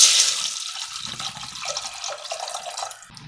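Tamarind water poured from a tumbler into a pot while making thoothuvalai rasam, a close, steady splashing pour that fades toward the end.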